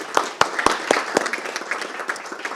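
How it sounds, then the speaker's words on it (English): Audience applause at a speech contest: a crowd clapping steadily, dense and close, with a few louder claps standing out near the start. "Again, let's get another round of applause."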